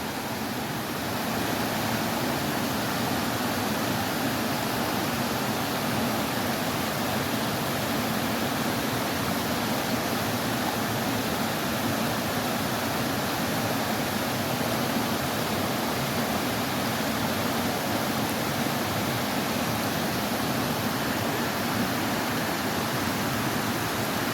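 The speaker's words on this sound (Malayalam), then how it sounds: "കുറച്ചു നേരം നിങ്ങൾ വെള്ളത്തിൻ്റെ ശബ്ദം മാത്രം കേട്ടോളൂ ഞാനൊന്നും മിണ്ടുന്നില്ല" A waterfall at the Dhoni trekking site roars in a steady, loud, unbroken rush of falling and flowing water that carries on alone for the whole stretch, with no voices.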